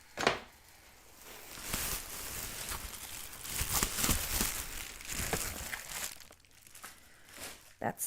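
Plastic packaging holding sewing boning crinkles and rustles as it is handled up close, in uneven bursts of crackling with short pauses, louder in the middle and trailing off into a few sharp crinkles at the end.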